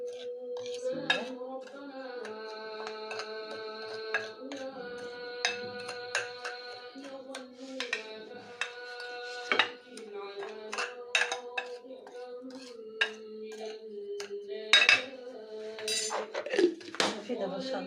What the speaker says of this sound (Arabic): غادي نخلطهم دابا مزيان يتخلطوا مع بعضياتهم